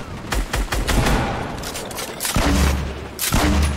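Rapid bursts of gunfire in the Fortnite battle royale video game, several volleys crackling in quick succession with heavy low booms near the end, loud and close.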